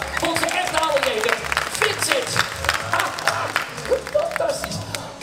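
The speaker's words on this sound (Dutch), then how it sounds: "Nog één keer een heel groot applaus voor onze echte allerleden." Applause at a show at Wildlands Adventure Zoo Emmen: a crowd claps steadily throughout under a loud voice talking over it.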